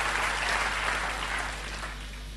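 A church congregation applauds during a sermon, a steady, fairly soft wash of clapping heard at a distance that gradually fades, with a low hum underneath.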